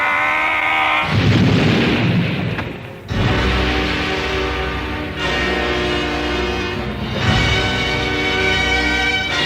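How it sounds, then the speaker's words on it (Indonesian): An audio drama effect of two powerful fighters' combined blows: loud booming blasts repeat in rolling waves over dramatic music, with heavy low-end bursts and sustained tonal layers. No voices are heard. "Ledakan keras terjadi"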